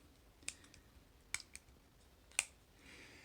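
A Leatherman Juice S2 multitool handle clicking firmly into place, with a few sharp, close clicks spread apart against a quiet background.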